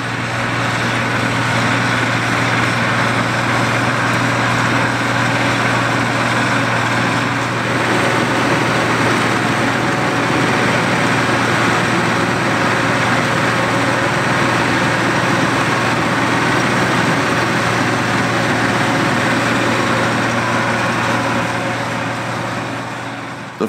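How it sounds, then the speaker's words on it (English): Vintage tractors, including a 74-horsepower Allis-Chalmers 185, run steadily in a hay field during mowing, a loud continuous engine drone with a low hum that holds without a break. "I thought it would be interesting to highlight the different vintage tractors at work"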